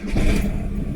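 A 2002 VW Jetta TDI diesel engine with the ALH motor starts up, giving a brief, loud, close cranking rumble that catches into a running idle, heard alone.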